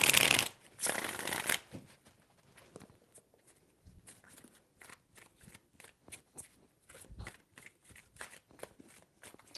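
Tarot cards being shuffled in a loud, dense riffle burst at the start, followed by a long run of softer, scattered card snaps and flicks as the deck is handled; no talking.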